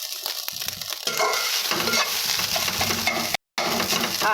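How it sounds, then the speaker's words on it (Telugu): Country chicken egg curry fries and sizzles in a pan, with continuous crackling hiss broken by stirring scrapes and clinks of a utensil, close up, with one brief silent gap. "ఇంకొంచెం ఫ్రై చేస్తే బాగుంటుందని అలా ఫ్రై చేస్తున్నాను"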